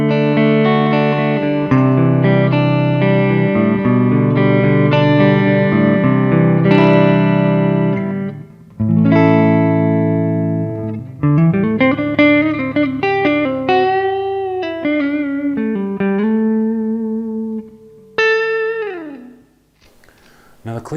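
EVH Wolfgang guitar played on its neck pickup through the clean channel of a Splawn Street Rod amp, ringing chords and single-note lines with sustained notes, a few gaps, and a slight breakup at louder moments, no talking.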